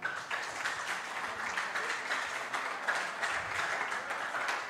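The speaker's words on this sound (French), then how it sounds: "Moi, un applaudissement en créole, s'il vous plaît, pour deux belles équipes." An audience at an interschool quiz semi-final applauds two school teams, a dense, fairly soft, continuous patter of clapping from a crowd that holds steady throughout.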